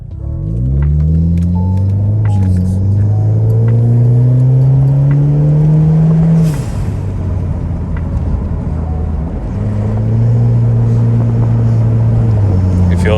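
A 2017 Ford Fusion in sport mode accelerates hard from inside the cabin, its engine droning and rising through the revs, dropping, then climbing again, loud and steady.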